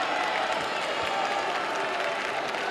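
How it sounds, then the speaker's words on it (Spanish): Deputies applaud in the chamber of the Cámara de Diputados during an extraordinary session, a dense, steady wash of clapping from many hands filling the room without a break. "yo sé que me están aplaudiendo"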